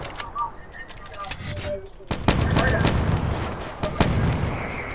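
Sharp gunshots and booming blasts from a 1v1 video game match, loud and close, irregular bursts over a dense rumbling background, with a voice speaking through it.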